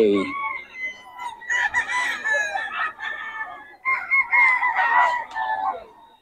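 A large rooster at a market crows loudly and close by, several drawn-out calls in succession, with some clucking from other fowl around it.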